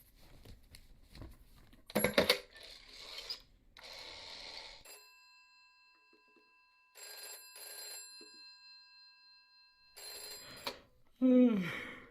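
A telephone rings during a call in the video game This Is the Police, with repeated bell-like ring bursts sounding between other game noises and a short vocal sound at the end.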